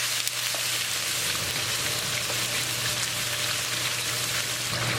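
Garlic and ginger sizzle in heated oil in a pan for chilli chicken, a dense continuous frying hiss with a steady low hum underneath, no voices over it.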